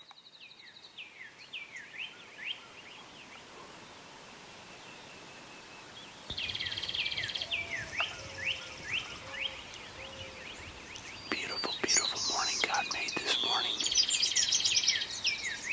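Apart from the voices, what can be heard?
birds singing in the morning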